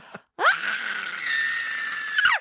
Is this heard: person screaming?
yes